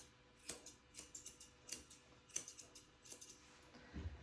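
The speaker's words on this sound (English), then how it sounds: "I trim the bottom and in that groove there" Scissors snip in quick, irregular clusters while trimming the hair of a Shih Tzu cross Yorkie during a full groom; the crisp metallic cuts are close and fairly quiet, with no talking.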